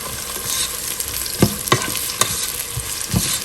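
Sliced onions frying in oil in a pan for a shahi korma, a bright continuous sizzle with a few sharp pops and stirring knocks close by, no voices.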